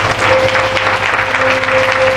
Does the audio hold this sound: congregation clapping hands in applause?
yes